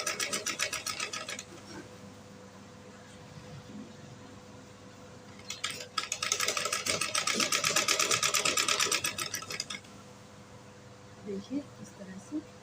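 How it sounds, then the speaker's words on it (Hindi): A sewing machine stitches a blouse in two loud bursts of fast, even needle chatter close by, with a quieter stretch between where someone talks. "यहाँ से हम सिलाई लगा देंगे"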